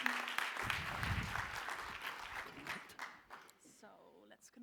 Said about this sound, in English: Ladies and gentlemen, big applause for Linka Weringer.